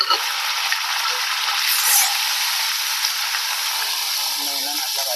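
Chopped onions and green chillies frying in a pan for a banana flower stir-fry, a steady bright sizzle that stays loud throughout without pausing.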